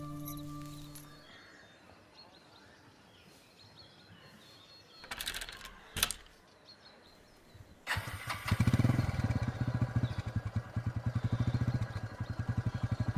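A brother's motorbike starts up after a quiet stretch with a few clunks, then its engine settles into a loud, rapid, steady idle putter close by.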